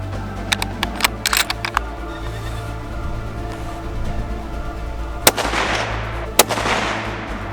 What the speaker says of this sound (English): are going to go sight this gun in